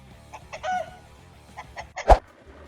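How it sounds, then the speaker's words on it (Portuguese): A rooster defending a henhouse against a hawk trying to get in through a hole in the fence. Short squawks and clucks sound over a steady low hum, ending in one loud, sharp burst near the end. "Um galo tem como instinto proteger seu galinheiro, e este mostrou exatamente isso quando um falcão tentou invadir por um buraco na cerca."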